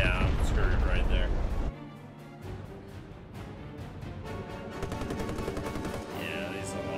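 Aircraft guns fire in the War Thunder combat game: heavy rapid bursts at first, then a quieter stretch of sharp, regular rattling shots, with a voice talking over parts of it.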